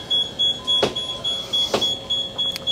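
A motorised boat garage door on a Fairline Targa 47 sports yacht whirs steadily as it opens, with a few sharp clunks and a high electronic beep pulsing in the background.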